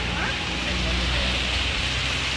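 Heavy rain pours steadily outside a house, a dense continuous hiss with a low rumble underneath, loud and unbroken throughout.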